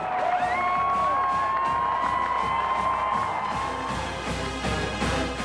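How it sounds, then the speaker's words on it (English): Stadium crowd cheering for the Michigan State marching band, a dense, sustained roar of many voices with brief whistling whoops, loud and continuous throughout with a faint rhythmic pulse beneath. "There's nothing quite like stepping out onto that field to a crowd of people cheering."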